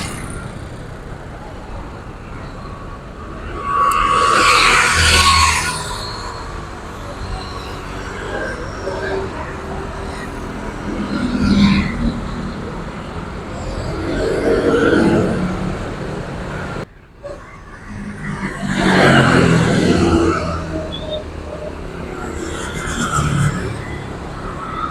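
A Jetbus 5 coach bus pulls out of the Rajekwesi bus terminal in Bojonegoro, its engine rumble and broad roadway noise swelling and fading in several passes, with someone commentating over it.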